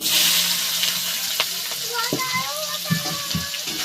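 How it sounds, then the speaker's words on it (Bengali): Chopped onion drops into hot oil that already holds whole garam masala, giving a loud hissing sizzle followed by stirring clatter, with a voice talking partway through. "এইবার দিয়ে দেব পেঁয়াজ কুচি।"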